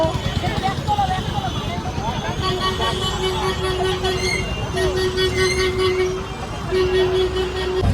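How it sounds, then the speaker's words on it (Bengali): A jammed road near the Madhyamgram market is full of engine rumble and car and bus horns, with long steady honks repeating over the busy din while voices chatter nearby. "মারাত্মক কন্ডিশন, রাস্তার জ্যাম দেখো ভাই"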